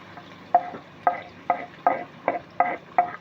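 Onion goes into a pan to fry for chicken feet: a soft sizzle runs under about seven regular scraping stirs, each a short clack about half a second apart.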